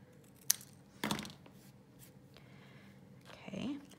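Paper being trimmed for a mini pizza box treat holder, a few faint close cuts and rustles spaced apart, with a quiet voice nearby.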